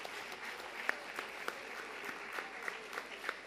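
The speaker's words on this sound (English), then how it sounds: "give them another round of applause" Audience applause for a student performance at a school convention, a faint, steady patter of many hands from a distance with a few sharper individual claps standing out.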